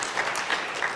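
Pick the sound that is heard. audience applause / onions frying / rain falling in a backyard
audience applause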